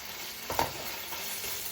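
Soft, steady sizzle of ginger garlic paste frying with onions in a pan, with a brief stirring scrape in the middle.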